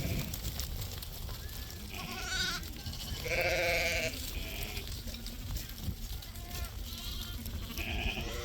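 Sheep and lambs bleat repeatedly, several overlapping calls rising above a steady noisy background, with a voice faintly present.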